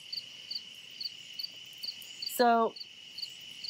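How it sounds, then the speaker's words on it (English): A loud cricket chirps outdoors at a campsite, its short, evenly spaced pulses repeating steadily and close by, with a brief burst of speech cutting in near the end. "I sure hope you can hear me over the cricket. That cricket's pretty loud."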